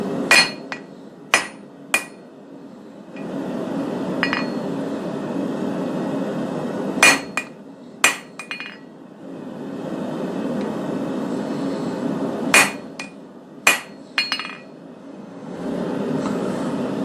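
Sharp, ringing hammer blows on a metal hammer drift being flattened land in short bursts of one to three strikes, separated by pauses, over a low steady hum.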